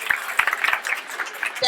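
Crowd clapping again for graduates at a Kanifing Senior Secondary School graduation ceremony, a brief ragged burst of applause with scattered louder claps, continuous and fairly close throughout.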